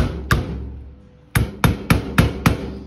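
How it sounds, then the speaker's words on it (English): A rubber hammer taps on engine valve springs sharply once, then after a short pause strikes five more times in a quick, even rhythm, close and fairly loud. "grab a rubber hammer like this one right here, and you're going to want to tap on these valve springs"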